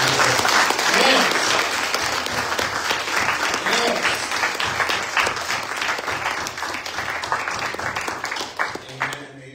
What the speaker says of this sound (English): let's give God the biggest clap offering that we